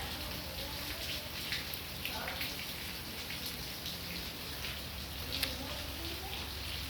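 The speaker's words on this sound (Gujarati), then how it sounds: "વરસાદ ધીનો ધીનો ચાલુ થયો." Light rain falls in a steady, faint patter, with occasional slightly louder drops landing on a surface.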